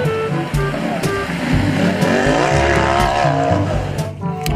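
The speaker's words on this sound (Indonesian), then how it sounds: "Ternyata mobil off-road." A toy off-road monster truck with big wheels plays loud revving engine and tire-squeal effects in a busy continuous stream, with a voice faintly underneath.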